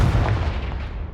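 A Confringo blasting spell going off in the Hogwarts Legacy video game, a single deep booming explosion that quickly tails away.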